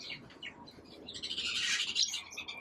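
Birds in a shop at an exotic animal market in Bangkok, with faint, quick chirps and tweets in an irregular flurry over a quiet indoor background.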